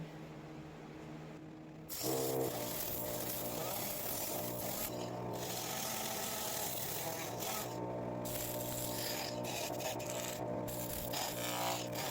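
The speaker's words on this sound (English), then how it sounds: "now we're going to move on to sanding" Steady, continuous rasping and rubbing of abrasive on a wooden bowl, starting after a short quiet lead-in and running evenly at close range with no voices.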